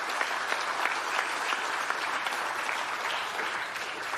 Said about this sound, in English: what about a round of applause for your judges and that excellent sponsor package?